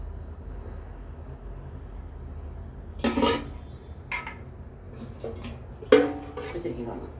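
A spoon stirring cucumber curry knocks against a cooking pot in a home kitchen, giving four sharp metallic clinks spaced a second or so apart over a quiet background.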